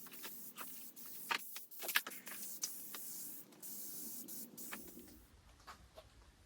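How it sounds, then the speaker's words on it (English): Epoxy mold release is sprayed inside a mold for a river desk, a series of close, hissing aerosol bursts of varying length, followed by a quieter tail. "So spray the inside,"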